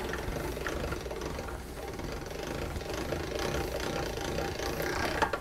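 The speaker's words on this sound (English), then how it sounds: "And on this machine, I'm going to go down to my number 5 setting." A pasta machine's adjustment knob is clicked down to thickness setting 5 while making fettuccine, a steady run of small ratcheting clicks and gear noise, fairly close and heard alone without talk.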